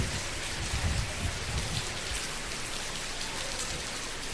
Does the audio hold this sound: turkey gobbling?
no